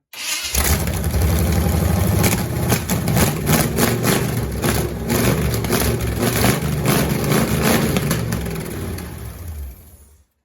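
The engine and transmission of a 1984 Pontiac Grand Prix race car roar loudly up close, rising and falling as it revs and then cutting out abruptly at the end.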